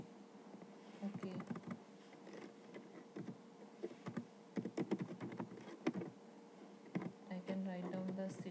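Keys on a computer keyboard are typed in irregular bursts while entering name and address details for a mail merge, with a person speaking over most of the tapping.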